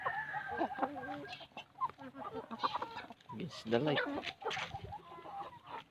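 Chickens cluck and call close by in short irregular bursts, mixed with people talking nearby.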